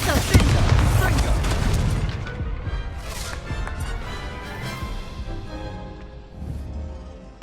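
Confringo blasting spell from a Harry Potter video game, a loud booming explosion at the start that trails off into a crackling, fading rumble with scattered smaller bursts.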